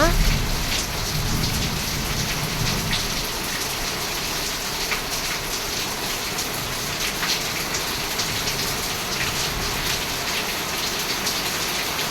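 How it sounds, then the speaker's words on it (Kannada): Heavy rain pours down into the open courtyard of a traditional house in a dense, constant roar with close splashing drops, steady throughout with no break. "ತೊಟ್ಟಿ ಮನೆ ಆಗಿರೋದ್ರಿಂದ ಆ ಮಳೆ ಸೌಂಡು ತುಂಬ ಜೋರಾಗಿ ಕೇಳ್ತಾ ಇದೆ"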